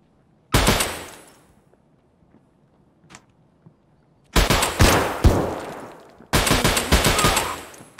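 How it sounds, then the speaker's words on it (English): Gunfire in Escape From Tarkov, heard as three loud bursts of rapid automatic shots separated by quiet gaps, with a few faint taps in between. "I think we just whiffed most of our shots there"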